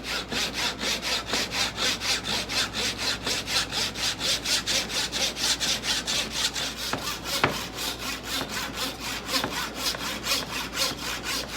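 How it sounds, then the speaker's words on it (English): Flush trim saw cutting the excess wood off glued-on shelves, a steady rapid back-and-forth rasping of even strokes, close and continuous with one brief knock midway. "I'm just using my flush trim saw to cut off the excess"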